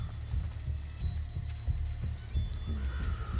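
Horse hooves from Assassin's Creed: Brotherhood, a steady low thudding clip-clop of galloping hoofbeats with occasional sharper knocks, moderately loud over a constant low rumble.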